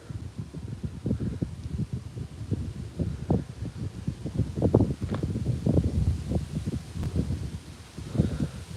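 Wind gusts across a pond, buffeting the microphone in uneven bursts of low rumble and rustling, moderately loud and irregular throughout.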